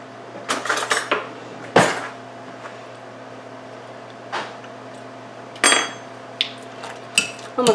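Shepherd's pie ingredients are mashed together in a pot, with a utensil clanking and scraping against the metal in scattered knocks and clinks over a quiet kitchen hum.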